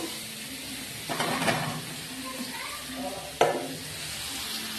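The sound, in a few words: besan fritters frying in spices in a pan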